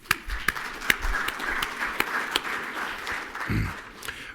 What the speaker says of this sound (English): Could you put your hand together,